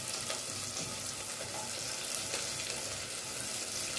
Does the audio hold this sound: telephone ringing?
no